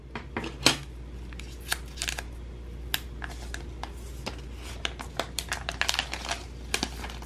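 Plastic wrap being peeled off a Redmi Note 9T phone, a run of quiet irregular crinkles, taps and small clicks spread over several seconds with no talking.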